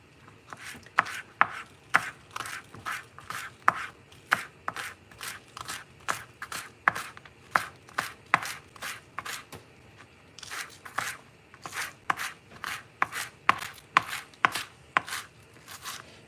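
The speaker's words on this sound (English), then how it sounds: "And then I'm going to do my scallion and my sweet pepper and some Scotch bonnet." Knife chopping scallion, sweet pepper and Scotch bonnet on a cutting board: steady rapid rhythmic thuds in two bursts separated by a brief pause, close and clear with no talking.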